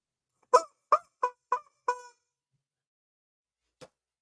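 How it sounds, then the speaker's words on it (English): Chickens calling in a yard, five loud honking squawks in quick even succession, then a pause and one fainter call. "I still have the chickens. You know, they're just over here."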